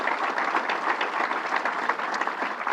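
Audience at a Governor's announcement at Syracuse Hancock International Airport applauding steadily, a dense even round of clapping throughout.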